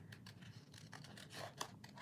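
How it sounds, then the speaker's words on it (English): Big scissors cut through paper in steady repeated snips and rasps, close and fairly quiet, with one sharper crisp cut near the end. "I think I can make this process go a little faster with my bigger"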